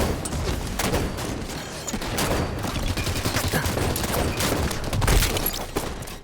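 Sustained gunfire from the Halo 5: Guardians arena match, a steady dense rattle of shots with a louder burst toward the end that fits a grenade blast.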